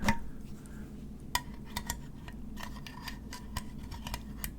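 A pen scrapes and scratches across an aluminum soda can as if drawing on it, giving short close metallic scrapes and clinks in irregular bursts over a quiet low hum.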